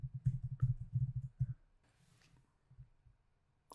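Several quick mouse clicks in a close cluster during the first second and a half, followed by a few softer taps and faint rustle near a computer.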